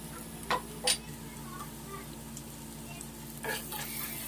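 Garlic and onions frying in butter give a quiet, steady background sizzle, broken by a few brief clinks or scrapes of stirring near the start and again toward the end.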